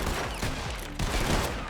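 Rapid gunfire crackles in a Red Dead Redemption 2 train robbery scene, a dense volley of overlapping shots and bursts filling the whole moment, loud and close with no voice over it.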